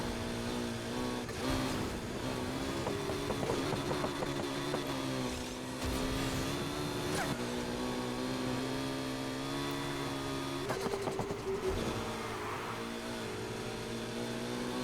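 A car drifting around a corner in Need for Speed Heat, with a continuous droning engine and tire scrub at moderate level, swelling with a few brief squeals and bursts.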